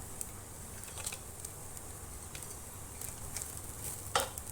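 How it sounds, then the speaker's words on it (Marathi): Raisins fry in a pan with garam masala for coconut rice, giving a steady soft sizzle under a few scraping stirs and light clinks, one sharper scrape near the end, with no talking. "हे आपण भाजून घेऊया आता लगेच त्याच्यामध्ये बघा मनुके घालून घेऊया"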